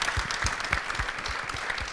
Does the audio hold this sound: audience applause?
yes